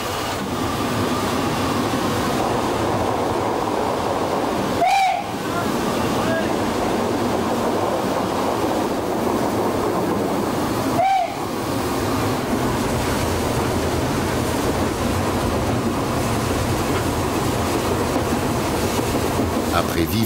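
SNCF 141-R-568 steam locomotive running on the Le Rouergue line in 2000, a loud, steady rumbling roar throughout, broken by two brief sharp bursts about six seconds apart.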